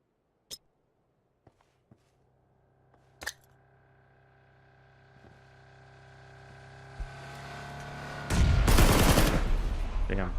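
PUBG battle game action: several sharp, isolated gunshots crack out, then a rising rumble builds into a loud grenade explosion that roars and lingers at the end.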